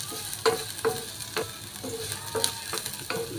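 Garlic and onions fry in a pan until browning, a steady sizzle broken by about seven sharp stirring scrapes at a regular pace, close and fairly loud, with no one talking.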